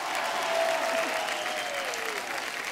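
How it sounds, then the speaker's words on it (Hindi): A studio audience on The Kapil Sharma Show claps loudly for the star cast, a continuous roar of applause with a faint tonal sweep running through it. "एक बार खुद की पूरी स्टार कास्ट के लिए जोरदार तालियां हो जाए"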